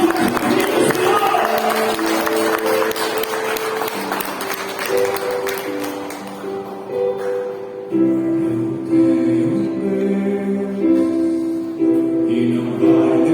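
Church congregation applauding during a Portuguese-language worship service, loud sustained clapping mixed with music and singing, the clapping strongest at the start and thinning as the music carries on.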